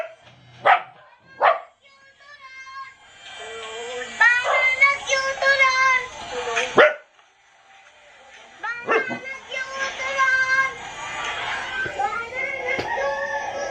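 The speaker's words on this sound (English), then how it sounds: "What are you barking for?" A small dog barks and yips from a video played back on a phone, sharp bursts and whimpers heard a bit distant, with people talking over and between the barks.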